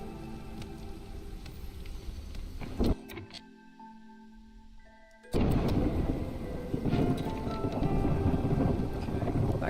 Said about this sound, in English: That clap of thunder means the storm's coming.